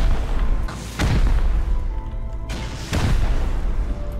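Booming gunfire and explosions from the survival video game Rust, with two heavy blasts about two seconds apart over a dense, continuous rumble of shooting and mechanical noise, loud and close.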